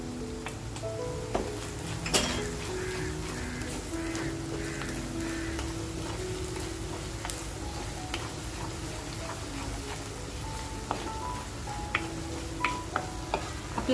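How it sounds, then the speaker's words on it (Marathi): Spiced Kolhapuri chicken masala with homemade masala and turmeric sautéing in oil, giving a steady low sizzle and occasional stirring clicks, with faint background tones throughout and no talking. "आपला मसाला सुद्धा असा मस्त तेलाबरोबर परतवून घ्यायचे आपल्याला"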